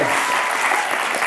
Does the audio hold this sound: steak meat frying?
no